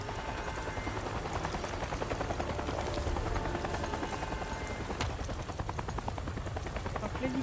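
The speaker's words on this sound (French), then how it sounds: "Si l'hélico reste, on a un peu moins de temps." Helicopter in the video game Avatar Frontiers of Pandora, a steady rotor thrum running loud and constant through the whole stretch, with faint speech-like sounds and scattered sharp bursts mixed in.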